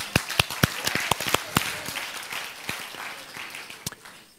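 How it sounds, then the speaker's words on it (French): Scattered hand claps ring out, a few sharp and close, others softer, thinning out as the applause fades. "Ouais, on peut l'applaudir."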